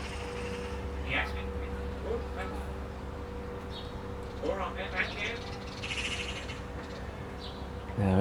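A pet talking bird imitating its owner's voice in a garden, giving short, scattered mimicked calls and chirps over a low steady background hum.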